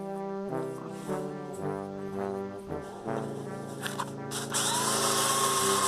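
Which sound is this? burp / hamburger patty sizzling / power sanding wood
power sanding wood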